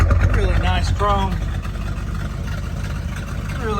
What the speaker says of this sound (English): Truck's got the factory stacks. You can hear them